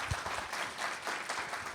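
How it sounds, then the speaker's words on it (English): Audience clapping at a lecture-series event, a sustained patter of hands from a modest crowd at moderate level with no voices over it. "give me a clap"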